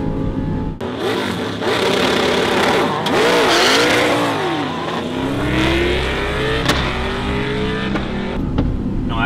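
A modified car launches hard from close by, its engine revving loudly with rising and falling harmonic sweeps as it accelerates, then the tone drops and settles into a rougher, steadier drone.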